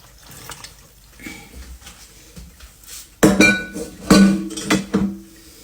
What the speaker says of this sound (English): I'm going to pour it over the pickles.